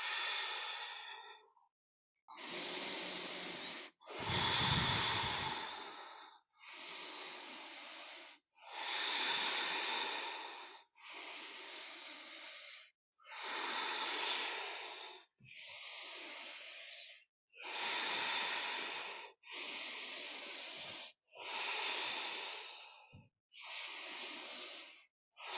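Slow, deep yoga breaths, about a dozen long airy inhales and exhales in a steady rhythm, close and fairly loud with short silent gaps between them; no talking.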